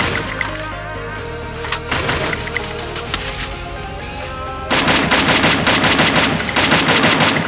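Gunfire in the Free Fire video game, with dense rapid automatic bursts and overlapping shots, loud and close, a pause of lighter crackling, then an intense sustained volley, no talk.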